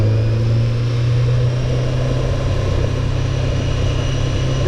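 A Honda CBR600F4 motorcycle idles after a carburetor rebuild: a steady, close, low engine rumble that runs unbroken the whole time, with no voices.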